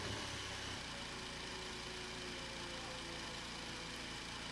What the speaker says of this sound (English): Okay, engines fired up.